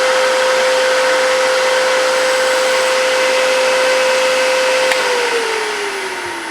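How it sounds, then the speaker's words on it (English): A wood lathe runs with a steady, loud motor whine and constant tone, then the pitch slides lower near the end as the machine begins to slow. "as you take pressure off of it, the lathe is still going"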